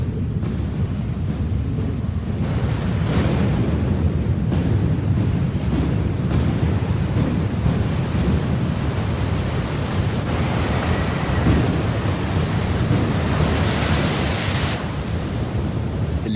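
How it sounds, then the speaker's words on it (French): Mega tsunami waves crashing inland in a prehistoric setting: a loud, sustained roar of churning surf and rushing water with windy broadband noise, steady throughout without letup. "Ce méga tsunami s'est enfoncé profondément au cœur des terres."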